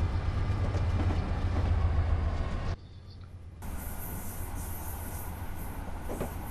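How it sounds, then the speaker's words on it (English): A Metro-North diesel-pushed train with a cab car rumbles along in Train Simulator 2015, steady loud rail noise and engine drone, briefly dropping quieter before a hissing cab-interior hum resumes. "So we've got a diesel locomotive pushing us from the other end, driving the cab car"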